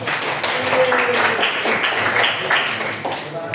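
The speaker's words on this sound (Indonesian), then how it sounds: "ya tepuk tangan untuk yang tadi" A classroom of students claps for a classmate, a dense patter of hand claps filling the room at steady loudness, with faint voices mixed underneath.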